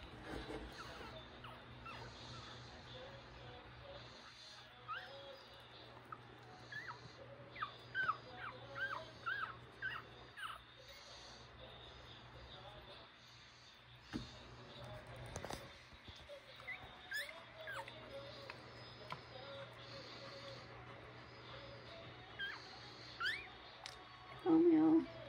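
Newborn puppies whimper and squeak as their mother dog returns to nurse them, the thin high cries repeating in uneven bursts throughout, fairly soft and close, with faint indoor background.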